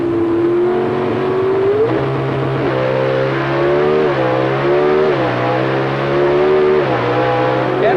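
NHRA Pro Stock drag cars with 500 cubic inch engines at a 1989 final round roar off the line near 8,500 RPM, a loud sustained howl rising and stepping up through gear changes, with no talk.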